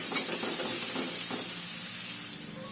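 Spice paste for tempe and tofu bacem being stir-fried in a pan, a continuous close hissing sizzle with soft stirring scrapes throughout and no voices.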